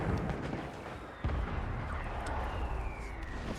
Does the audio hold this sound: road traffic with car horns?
no